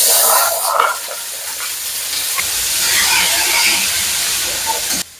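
Chickpeas hit a pan of frying onion and chilli, starting with a loud hissing burst that settles into a steady, softer sizzle held close for several seconds before cutting off.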